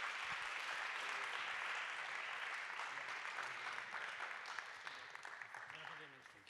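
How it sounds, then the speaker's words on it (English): An audience at a tech conference closing session applauds, with sustained, fairly distant clapping that fades gradually toward the end. "So a big round of applause, please"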